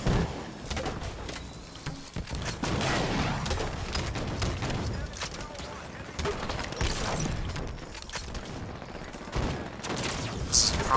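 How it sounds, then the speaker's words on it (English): Rapid submachine gun fire in a Halo 5 big team match rattles in dense, uneven bursts at moderate volume, mixed with other battle noise while a player talks over it. "Submachine gun. Well, we're kind of stuck with using this then."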